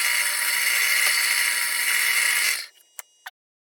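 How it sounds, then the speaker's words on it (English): A power drill bores holes for M8 screws through old plate steel for a projector tabletop mount, a loud steady whine that runs for about two and a half seconds, stops abruptly, then gives two short blips. "drill out the remaining 2 holes."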